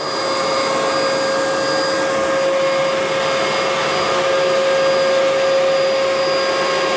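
A Bissell Powerglide Pet vacuum cleaner runs steadily and loudly with a constant motor whine and rushing airflow, close and uninterrupted throughout with no voices.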